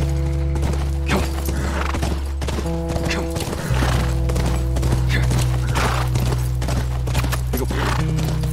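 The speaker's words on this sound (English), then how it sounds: "That's our horse." Horse hooves clip-clop in steady rhythm in The Last of Us video game, with a whinny breaking through, set against a sustained low musical drone and game ambience.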